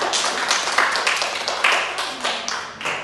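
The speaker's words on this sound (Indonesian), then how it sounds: "Tepuk tangan untuk Lika" A small group in a classroom applauds a student named Lika, a dense, close patter of many hands clapping at once that carries on steadily throughout.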